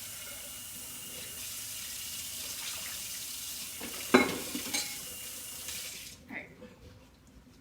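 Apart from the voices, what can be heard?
rinsing a bowl under the tap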